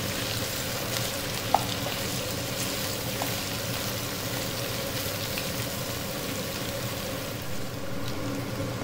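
Raw banana pieces fry in a pan on both sides, a steady moderate sizzle of oil with occasional small clinks of a utensil and a faint underlying hum.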